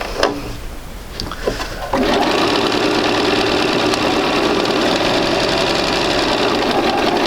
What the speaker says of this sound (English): I'm going to back up a few stitches and forward 2 or 3 stitches just to complete and lock